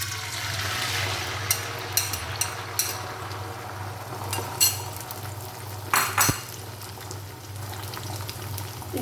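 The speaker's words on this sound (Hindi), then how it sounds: "देखिए हमारा ऑयल अब गर्म हो चुका है। हम इसके अंदर अपना अंडा डाल देंगे।" An egg sizzles as it is dropped into hot oil in a frying pan while making an egg chicken cheese sandwich, with a steady frying hiss and a few clinks and scrapes of a utensil against the pan, no voices.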